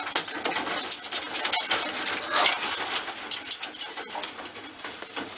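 Pigeons coo softly around a breeding loft, among them an ash red satinet paired with an indigo roller cock, with their low calls repeating over a busy, rustling background.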